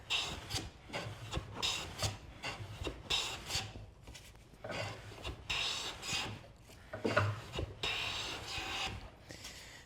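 Repeated rasping strokes of a Taylor Tools Bedrock hand plane shaving saw marks off medium hardwood, coming in uneven bursts with short pauses between passes, close up and with no talking.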